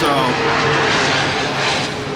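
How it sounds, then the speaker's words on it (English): Airplane passing close overhead near an airport outside Innsbruck, Austria, a steady loud broadband engine roar filling the whole stretch, with voices talking faintly beneath it. "the planes fly like directly overhead"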